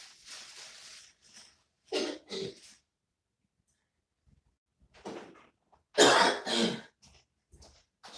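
A few harsh, throaty coughs close by, in separate bursts with quiet pauses between them.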